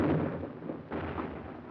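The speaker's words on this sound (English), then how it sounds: "Our own artillery was brought to fall within 100 yards of our front-line elements" Artillery fire in the WWII battle of San Pietro, a deep rumbling boom fading out, then a second heavy blast rolling in, muffled and band-limited like an old film recording.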